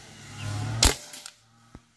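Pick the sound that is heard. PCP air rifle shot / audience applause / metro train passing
PCP air rifle shot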